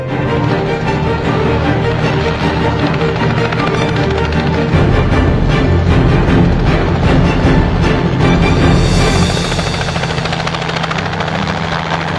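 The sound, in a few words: helicopter arriving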